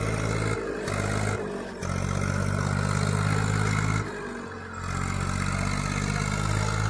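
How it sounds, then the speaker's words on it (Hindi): Tractor driving through shallow river water, its engine a steady mid-pitched chug that dips briefly twice, mixed with clatter and water noise. "मतलब पानी में भी चल जाता ट्रैक्टर।"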